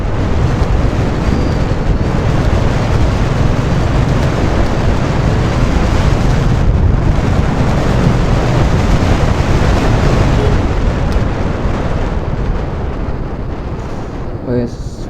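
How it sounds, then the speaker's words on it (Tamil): Strong, cold wind roars steadily across the microphone in the Kolli Hills, a loud continuous rush that barely lets up, with faint voices underneath. "காற்று நல்லா ஸ்பீடாகவும் அடிக்குது, சில்லுன்னு அடிக்குது இங்கே."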